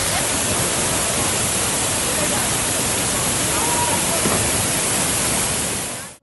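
Kanyegundi waterfall in Uttara Kannada, where young people play in the water and jump from the top of the falls, pours with a loud, steady broadband roar that holds without a break until it cuts off at the end.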